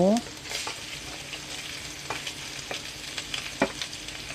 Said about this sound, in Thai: น้ำมันเริ่มร้อนเอาพริกลงค่ะ พริกกับกระเทียมลง ตามด้วยหมูค่ะ